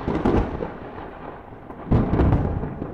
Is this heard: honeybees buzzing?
no